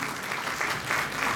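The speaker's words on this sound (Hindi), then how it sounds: "बहुत जोरदार तालियों से इस बच्ची का उत्साहवर्धन" Vigorous applause at a teachers' honour ceremony, a crowd clapping hard to encourage a young girl, a dense, sustained wash of many hands throughout the brief moment.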